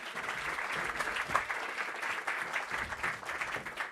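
A music-industry launch event audience applauds, a sustained, even patter of many hands clapping at moderate distance for about four seconds.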